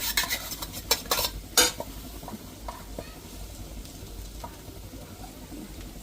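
Coconut being stirred in a pan on the stove, with scraping and clattering utensil strokes over a soft sizzle, busiest in the first two seconds, then quieter scattered scrapes.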